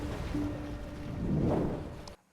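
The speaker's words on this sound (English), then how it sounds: "The whoosh sound effects you can use when something is wiping out from the screen, like this" A broad, noisy whoosh that swells to a peak and then cuts off abruptly, like air rushing past, moderately loud and alone.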